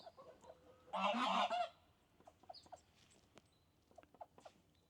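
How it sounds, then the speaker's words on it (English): Geese on a farm near an orchard let out one loud, close burst of honking, followed by fainter scattered clucks and calls from nearby fowl. "Here we have some geese."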